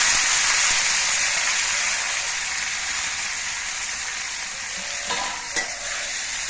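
Radish stalks and green chilli hit hot oil in a Bengali kitchen, producing a strong, steady sizzle that settles into a continuous hiss, with a couple of stirring clicks near the end.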